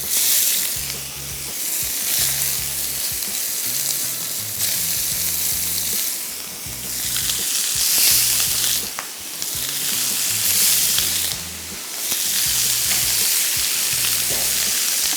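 Chicken shashlik with vegetables fries over medium heat in a pan, giving a loud, continuous close sizzle that swells and eases in waves, with a low rhythmic hum underneath.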